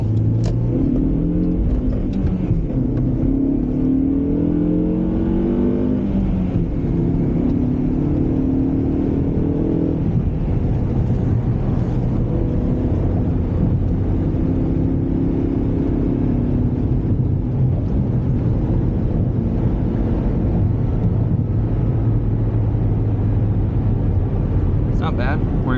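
A 2004 Honda CR-V with a manual gearbox cruising in fifth gear, a steady interior drone of engine and road noise with gently shifting pitch, heard beneath a person talking.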